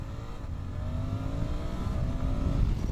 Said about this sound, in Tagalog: So yung kanyang exhaust note maganda rin.